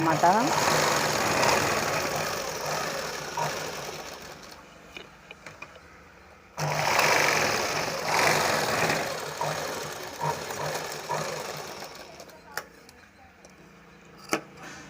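A domestic sewing machine stitches a blouse lining, its steady motor whir running in two long bursts with a brief stop between them, while someone talks over the sound throughout.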